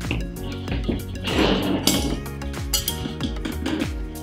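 Ceramic plates and metal cutlery clink and chink together in a quick, irregular run of bright, close taps, with a denser clatter near the middle, while carrot-growing tools and supplies are being set out.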